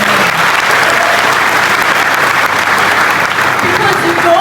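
A large audience applauding at a marriage event in Polokwane, dense steady clapping that stays loud and unbroken throughout.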